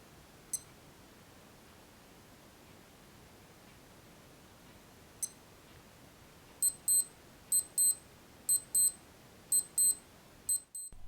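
A Casio WS-1600H digital watch alarm: two isolated single beeps, then a run of quick high double-beep bursts repeating about once a second, faint and alone against near silence.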